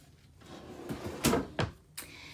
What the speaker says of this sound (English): We've got two drawers down here that you can pull out for storage.